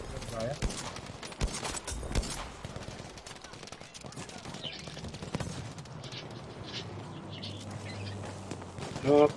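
Gunfire in the video game Battlefield V, bursts of shots and rattling automatic fire mixed with game effects, with a player talking over it.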